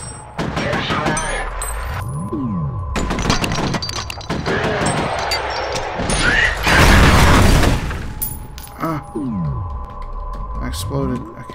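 Explosion in the video game F.E.A.R., a broad loud burst standing out amid repeated gunfire cracks, sweeping mechanical tones and busy game effects.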